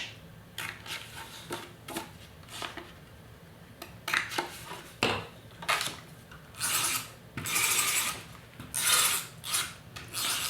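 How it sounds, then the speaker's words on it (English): A corner rounder punch rounds the outside edge of patterned paper on a stamped card. It makes a repeated series of close, rasping crunches and scrapes in uneven bursts, louder toward the end. "now I'm going to use the corner rounder again on the outside edge"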